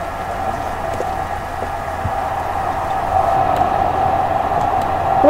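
A tram rolls along in a Roblox game on the Mitcham Junction to Addiscombe line in Croydon, giving a steady electronic hum that slowly grows louder over a few seconds, with no talking.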